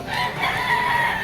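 A yellow-legged stag rooster crows loudly and close by in one sustained call, with no talking over it.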